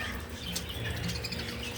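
Pet parakeets chirping in a flurry of quick, overlapping high tweets, close and continuous over a dense room background with no talk.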